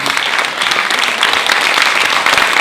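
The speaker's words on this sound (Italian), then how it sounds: "Un applauso." Theatre audience at a live comedy show applauding for an honoured guest, a loud, dense, steady wash of clapping from many hands filling the room without pause.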